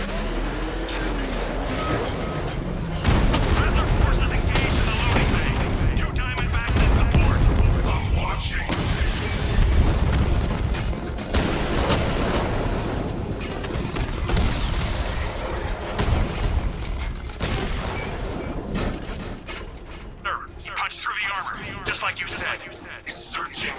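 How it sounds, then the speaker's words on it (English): Heavy 60mm cannon fire from the Batmobile's tank mode in Batman Arkham Knight: repeated deep booming blasts over a dense, loud bed of combat effects, with voices talking throughout. "Your 60mm cannon will penetrate these heavily armored units, but it'll take a few direct hits to destroy them."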